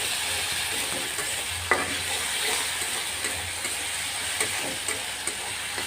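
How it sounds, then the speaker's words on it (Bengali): Ginger garlic paste sizzling in a pan with fish roe, a steady bright frying hiss with occasional stirring clinks and scrapes of a utensil, close and continuous. "আদা রসুনটা একটু কষিয়ে নিয়ে"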